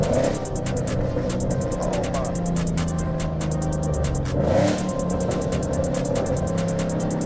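A loud Ford Mustang GT heard from inside during downshifts and hard pulls, its engine droning and rising in pitch with a steady, close, throbbing roar throughout.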